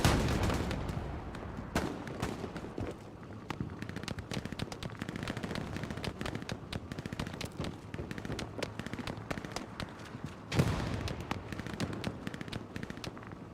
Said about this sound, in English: I hear so much gunfire though.